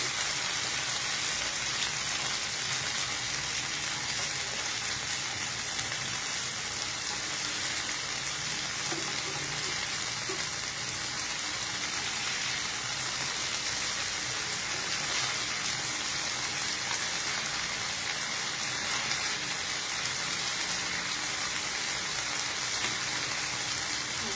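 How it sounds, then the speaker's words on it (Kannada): Food frying in a pan gives off a continuous, even hiss of sizzling at moderate level, unbroken for over twenty seconds with no talking. "ಫ್ರೈ ಆಗ್ತಾ ಇದೆ ಇದು"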